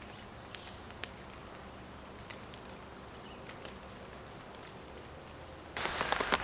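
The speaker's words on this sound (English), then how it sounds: "it's now pouring down the rain" Steady rain patters on a hammock rain fly in the woods, a dense broadband hiss with scattered heavier drops that swells into a louder downpour near the end.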